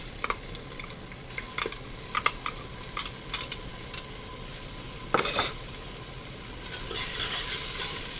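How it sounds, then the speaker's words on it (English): Cumin seeds and cloves sizzle in hot oil for a chana masala, a steady close frying hiss broken by scattered crackles and stirring scrapes, growing slightly busier toward the end. "now I'm adding cumin seeds, 1 teaspoon, 2 to 3 cloves, and let this sizzle. This has started sizzling"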